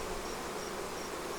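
A swarm of honey bees hums steadily in and around a hive box as a frame slides slowly across, their dense, continuous buzz filling the space close by with no voices.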